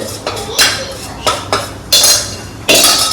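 A spoon clanks and scrapes against a metal pan as sugar syrup is stirred into sweets, giving a handful of loud, irregular knocks and scrapes close by.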